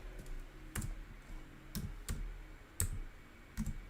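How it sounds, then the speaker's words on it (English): Fingers tap on a computer keyboard in short irregular bursts of crisp clicks, close and fairly quiet, with brief pauses between keystrokes. "Am I totally not typing that correctly?"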